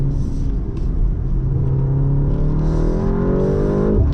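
BMW M235 Gran Coupe engine revving hard under acceleration, a loud, close rising drone whose pitch climbs steadily toward high revs over several seconds.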